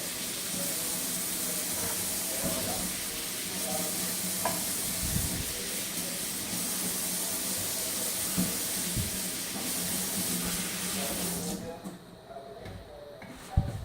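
Cut cauliflower is rinsed under running tap water, a steady close hiss of streaming water with irregular splashes and handling clatter, running until the flow cuts off near the end.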